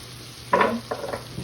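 Onions and celery going into a hot pot for loaded baked potato soup, with a short burst of sizzle and a couple of quick stirring scrapes following, close by and otherwise quiet.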